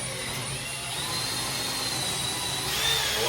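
A power drill bores a hole through a kitchen cabinet panel for a handle, giving a steady, loud whirring drone that rises slightly in pitch and strength toward the end, with no talk.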